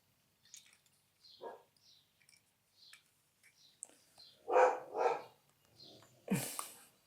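Dogs bark in scattered bursts, some short and distant and others louder and closer, with quiet pauses between them.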